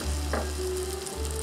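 Chopped ginger goes into melted butter in a cooker and sizzles with a steady, moderately loud frying hiss, brief and continuous.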